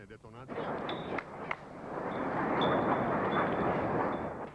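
A deep, rumbling roar of distant explosions at an oil refinery at night during 1999 air attacks in the Kosovo war, swelling and lingering, with a brief voice at the start and a few sharper cracks.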